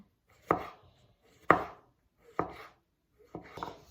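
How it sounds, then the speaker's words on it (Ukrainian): A knife slices mushrooms into pieces on a cutting board, four distinct crisp thuds spaced about a second apart, close and clear with quiet in between. "Гриби нарізаємо на пластини"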